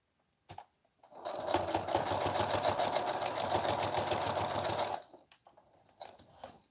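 A sewing machine runs in one steady, loud burst of about three and a half seconds, back stitching and forward stitching while a romper is sewn, with brief handling noises before and after.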